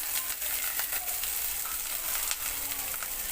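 Onion and curry leaves frying in oil for an anchovy (nethili karuvadu) curry, a steady close hiss of sizzling with faint stirring scrapes, continuous and without speech.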